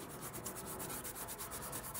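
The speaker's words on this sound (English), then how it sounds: "clean the hub here with a little bit of Scotch-Brite" Scotch-Brite pad scrubbing corrosion off the front brake hub of a 2015-2020 BMW M4, a steady, close abrasive rubbing that repeats in quick back-and-forth strokes.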